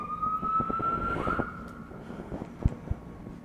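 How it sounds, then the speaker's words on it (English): A distant emergency vehicle siren wails with a steady rising and falling tone that fades gradually, with a few faint knocks and thumps nearby. "There's a bunch of sirens on that note."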